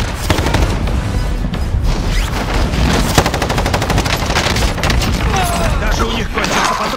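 Rapid automatic gunfire and booming shots in Call of Duty: Warzone, resurgence mode on Rebirth Island, pounding loud and continuous throughout with dense overlapping bursts and no pause.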